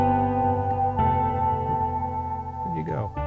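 Layered synth pads play together as a sustained, moderately loud chord bed in a piece of game music, shifting chords once before a brief sliding flourish near the end.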